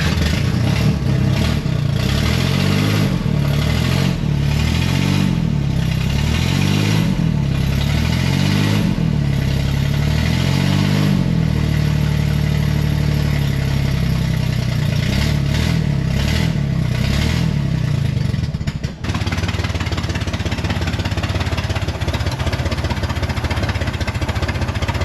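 An old engine with exhaust leaks runs continuously and loud, with a rough, uneven chugging and puffing exhaust that shifts in pace, then settles into a steadier drone.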